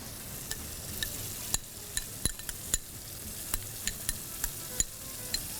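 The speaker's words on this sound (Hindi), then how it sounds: "इसको भी मैं भूनूंगी।" Ground red chillies and spices fry in a pan for arvi gosht salan, a steady soft sizzle with a series of sharp spoon clinks and scrapes against the pot as they are stirred, close and moderately quiet.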